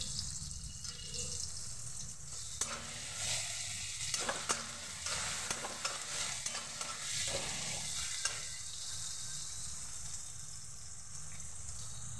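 Panch phoron spices sizzling in hot oil, a fairly quiet, steady frying hiss with a few brief clicks and scrapes of stirring in the middle.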